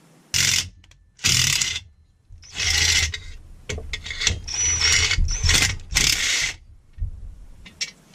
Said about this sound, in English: I think I'm just going to bolt this down.